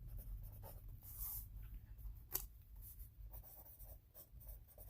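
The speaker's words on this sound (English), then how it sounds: "I'm going to just write it out." Words are written out by hand with a pen, faint close scratchy strokes in short uneven bursts with one sharper tap, over a low room hum.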